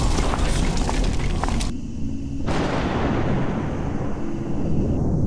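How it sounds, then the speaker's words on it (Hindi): Two loud, sharp bangs like firecrackers bursting close by, the first cutting off abruptly and the second following about a second later. "कमरे में जोर से 2 आवाजें आती हैं, जैसे कोई पटाखे फटे हो।"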